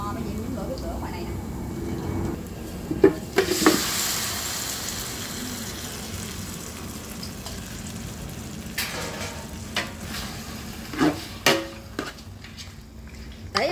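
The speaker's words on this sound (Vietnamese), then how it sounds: "Bây giờ em sẽ xào nó." Steady sizzling and frying as meat is stir-fried in a large pot for curry, with occasional clanks and scrapes of stirring over a continuous hiss.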